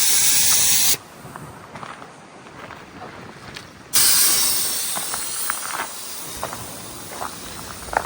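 Air hisses loudly and steadily from van tires through tire deflators working two at a time, stopping after about a second and starting again near the four-second mark, with faint clicks and knocks between the bursts.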